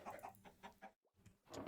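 Minecraft chickens clucking in a video game, a series of short, close clucks with a brief gap in the middle, then more clucking at the end.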